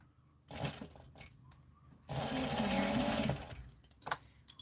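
Home sewing machine with a stuck bobbin runs in short bursts, then one steady loud stretch of stitching lasting about a second, followed by brief stuttering stops and restarts.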